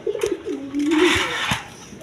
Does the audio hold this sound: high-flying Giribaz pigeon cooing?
yes